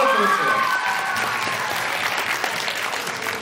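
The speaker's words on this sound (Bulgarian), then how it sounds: "Аплодисменти за шеф-готвач Валентина от Русе." An audience applauds a young chef at a tourism school celebration, a steady burst of many hands clapping with a voice briefly audible at the start.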